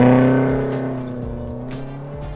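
A 1971 Alfa Romeo Giulia Super engine drones steadily and close, its tone rising and falling slightly as the car drives, with no talk over it.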